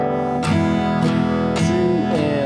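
Acoustic guitar strummed in a steady rhythm, switching between a fretted major chord and ringing open strings, four bright strum attacks at even spacing, close and loud with no talking.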